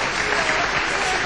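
An audience at a Kashubian singing contest breaks into dense, loud applause after a poem, a continuous wash of clapping filling the short moment.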